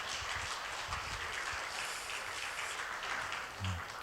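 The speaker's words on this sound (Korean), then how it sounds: "우리 뜨거운 박수로 힘내시라고" A Korean church congregation claps warmly during a revival meeting, sustained, dense applause spread across the hall at moderate level, with a few low thumps near the end.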